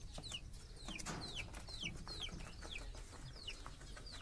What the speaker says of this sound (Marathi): कोंबडीने अंड पण दिलंय